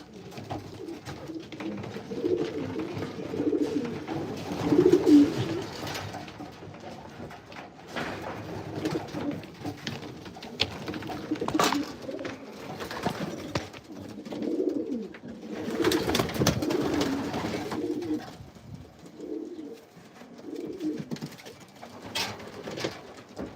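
Pigeons cooing inside a pigeon loft, a steady layered murmur of soft throaty coos from several birds close by, rising and falling throughout with occasional rustling and bursts of wing and movement noise.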